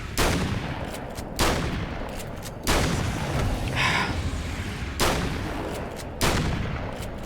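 Gunfire rings out as five sharp, loud shots, each followed by a ringing decay, spaced roughly one to one and a half seconds apart with no talking.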